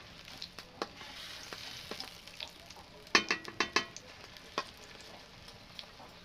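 Kochu flower fritters coated in besan batter frying in hot oil, a steady soft sizzle punctuated by a quick run of sharp crackles and pops, close up and with no talking.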